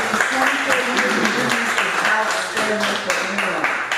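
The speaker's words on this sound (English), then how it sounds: "Let's give a round of applause, please." A studio audience gives a round of applause on a broadcast talk show, steady clapping lasting about four seconds with voices mixed in.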